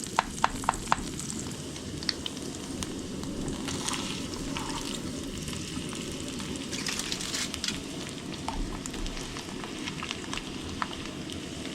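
Eggs sizzle and crackle steadily in a pan over a camp stove at a wild bike-camping spot, a continuous frying hiss with small pops and occasional stirring clicks, close and alone with no talking.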